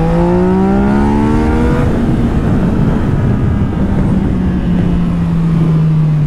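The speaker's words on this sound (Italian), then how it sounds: "È la strada che fa cantare i cilindri della moto." Motorcycle engine revving hard on a winding mountain road, a loud, close tonal whine that climbs in pitch as the bike accelerates and then holds a steady high drone over rushing wind noise.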